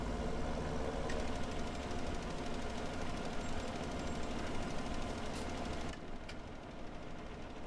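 A Fendt tractor engine in Farming Simulator 17 runs with a steady low mechanical drone and knocking vibration, unbroken and even throughout, with no voices.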